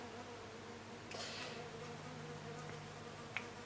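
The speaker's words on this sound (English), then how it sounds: "And that's a wasp," A wasp buzzes faintly and steadily nearby, its drone rising a little partway through, with no speech.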